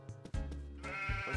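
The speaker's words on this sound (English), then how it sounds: "That is one happy sheep." A sheep bleats in the farming video game Harvest Moon Magical Melody, a drawn-out electronic baa sounding alone and clearly.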